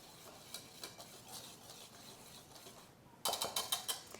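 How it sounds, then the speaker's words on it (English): A whisk stirs baking soda and salt in a bowl, making faint, soft scratchy swirling, then a closer run of quick rhythmic clinks against the bowl near the end. "And then we are going to mix it all together with our whisk."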